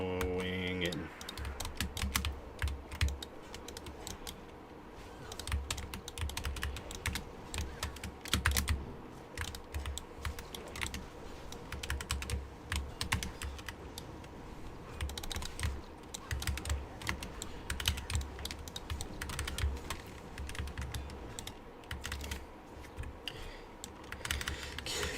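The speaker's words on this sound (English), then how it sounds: "Keyboard sounds clear today." Steady, continuous computer keyboard typing runs throughout, with rapid clustered keystrokes at a close-miked level, overlaid by game audio and occasional speech in the background.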